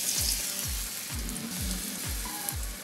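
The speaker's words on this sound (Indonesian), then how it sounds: "kemudian saya lanjutkan menggoreng." A homemade two-ingredient Indonesian snack fries in oil with a steady close sizzle, punctuated by a regular series of soft low thumps about every half second.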